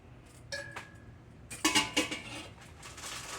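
A metal steamer rack clinks and clanks against a pot while a stovetop smoker is being made, a few sharp, light metallic knocks in quick bursts, close and fairly quiet.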